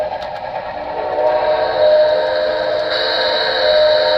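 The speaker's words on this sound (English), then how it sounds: "What's the whistle on this puppy sound like?" A steam train whistle blows in a long sustained tone that holds and grows a little stronger partway through, clear and prominent over faint rail noise.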